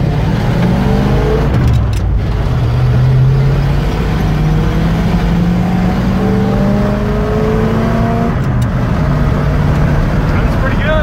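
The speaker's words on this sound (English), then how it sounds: "So let's go for a little rip down the road." A Ford F250 pickup with a carbureted FE V8 accelerates hard down a road. The loud engine note climbs steadily through the gears, with a clear upshift around two seconds in and another near the end.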